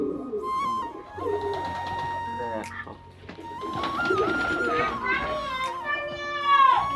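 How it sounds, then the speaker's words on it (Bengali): Pigeons coo in a flock of many birds, soft repeated calls mixed with children's voices and chatter and a steady tonal sound throughout. "অনেকগুলো কবুতর আছে তো"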